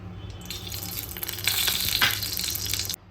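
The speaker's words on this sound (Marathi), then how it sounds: "सुरुवातीला तेल टाकायचं आपल्याला." Oil being poured into a pan at the start of a Marathi-style potato curry, a steady liquid gush with faint sizzling and hiss that grows louder midway, then cuts off abruptly near the end, with no talking.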